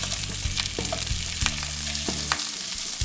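Onions tossed into a hot oiled pan with Italian sausage crackle and sizzle loudly up close, with sharp pops and the clatter of stirring over a continuous frying hiss.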